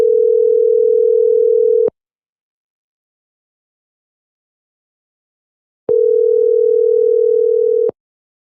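A telephone call tone sounds while dialing an officer: two loud, steady electronic beeps, each about two seconds long, separated by roughly four seconds of silence.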